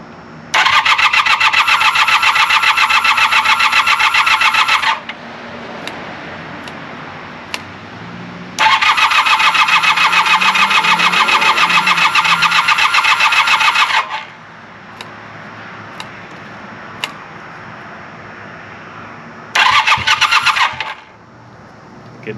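Honda CB400 T Hawk motorcycle with the choke on and fuel in the carburetors, its starter whirring loudly and steadily in three long cranking bursts separated by quieter gaps, without the engine catching. No one speaks.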